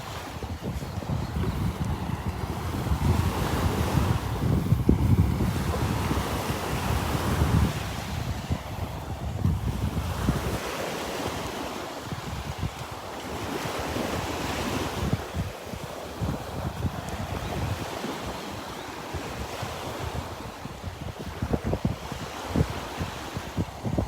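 Wind and breaking surf on Delnor-Wiggins beach on a breezy morning, a continuous roar of waves with gusty microphone buffeting, no voices.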